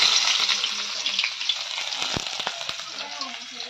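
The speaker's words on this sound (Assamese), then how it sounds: "তেল গৰম হৈ গ'ল এতিয়া লাহেকে পিঁয়াজ দি দিওঁ" Onions fry in hot oil in a wok, giving a loud, continuous sizzle with crackling and a few sharp stirring scrapes partway through.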